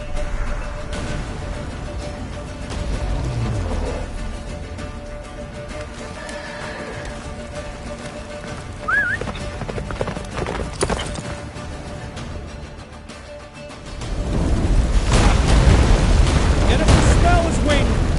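Roach the horse gallops through a snowy Witcher 3 game scene with steady clip-clop hoofbeats under dramatic music and ambient effects, a louder rumbling swell near the end, and voices speaking over it.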